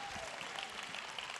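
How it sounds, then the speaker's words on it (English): Audience applause at a church talk, a brief steady wash of clapping from a crowd honoring half-marathon runners, fairly faint and even throughout. "Those people deserve some applause."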